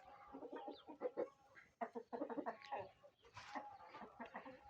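Several Indian breed chickens cluck and squawk in a busy, overlapping flurry, with a rooster's louder calls mixed in, fairly close.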